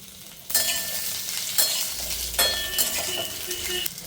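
Whole spices crackle as five-spice tempering hits hot oil, followed by potatoes added for a bhindi masala, with bursts of sizzling and frying, clinks of a utensil against the pan, and stirring throughout.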